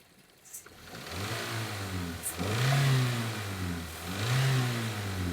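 A Toyota MPV's engine idles close by, then gets blipped with a few sharp revs that rise and fall back to idle, with no talk over it.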